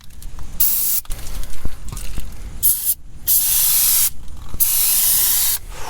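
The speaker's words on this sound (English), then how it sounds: "So what I'm gonna do is brake clean, just spray it to get any of that grease off" Brake cleaner sprays onto a greasy car brake caliper in several loud, hissing bursts of aerosol, close up, with brief pauses between them.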